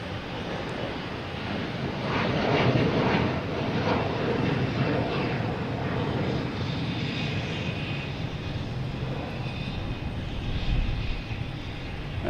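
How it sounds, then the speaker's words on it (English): Virgin Atlantic airliner arriving from Heathrow lands at Boston Logan Airport in late afternoon, a steady broad engine roar with rushing wind noise holding throughout at fairly close range, swelling slightly near the end. "Virgin Atlantic coming in from Heathrow"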